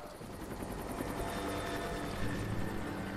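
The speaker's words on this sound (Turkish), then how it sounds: "Hayda helikopter." A helicopter in the video game Rise of the Tomb Raider makes a steady, fairly faint rotor thrum with rhythmic blade chop, continuous for a few seconds without speech.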